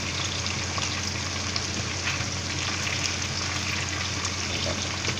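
Chicken wings deep-frying in hot oil, a steady dense sizzle and bubbling that fills the whole stretch at an even level, with no voices.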